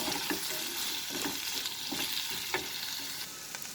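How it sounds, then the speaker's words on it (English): Cubed potatoes sizzle steadily in hot oil in a pan with a dense, close frying hiss, broken by a few soft stirring knocks, and no talk. "We'll fry it in this oil for 2 minutes."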